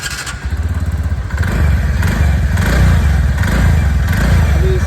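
A repaired TVS Ntorq 125 scooter engine idles close by, starting with a short clatter and then settling into a steady, loud, throbbing putter that continues alone.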